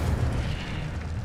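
An Incendio fire spell bursts in Hogwarts Legacy, a deep, rumbling blast with a heavy low-end boom that fades slightly over its short span.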